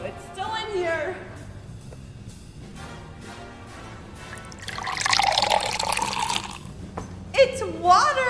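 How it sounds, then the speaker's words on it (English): Water is poured from a container carried in a briefcase, a loud splashing rush lasting about two seconds midway, with a voice talking before and after. "It's water!"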